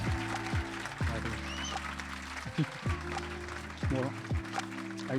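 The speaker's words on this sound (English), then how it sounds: "Can we have a round of applause for these two?" A steady wash of audience applause after a panel talk on worship music as an industry, moderately loud and continuous beneath voices speaking over it.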